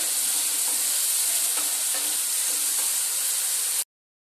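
Chicken for chicken khichuri frying in a pan, a loud, dense, continuous sizzle close up that holds steady and then cuts off abruptly, with no talking.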